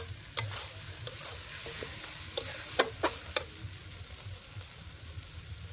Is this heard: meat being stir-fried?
yes